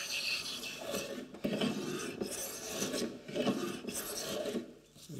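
Hand plane taking shavings from a piece of oak held in a bench setup, repeated rasping strokes with rough, grainy hiss, close and loud, several passes with brief pauses between.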